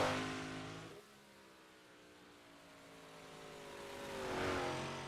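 Modified race cars run a heat race on a track, their engines roaring loudly before dipping and then swelling again as cars sweep past.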